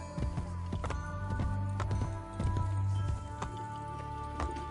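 Horse hooves clip-clop in Assassin's Creed Brotherhood, a steady run of close hoofbeats over a humming game music bed, with no talking.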